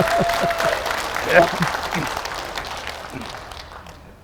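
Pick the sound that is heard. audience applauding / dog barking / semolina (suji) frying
audience applauding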